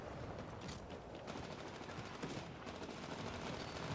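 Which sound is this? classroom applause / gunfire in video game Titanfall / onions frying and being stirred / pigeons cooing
gunfire in video game Titanfall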